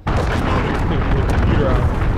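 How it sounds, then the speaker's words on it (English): A missile strike explodes in Call of Duty: Modern Warfare online multiplayer, a loud, sustained, rumbling blast that fills the whole moment with heavy low-end roar and crackling debris. "Allied missile launched"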